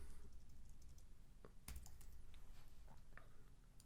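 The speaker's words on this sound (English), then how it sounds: "I'm going to type in dancer." Typing on a computer keyboard at a desk while entering a word into an image editor, a loose run of soft, irregular key clicks over quiet room noise, with one sharper, louder tap standing out midway.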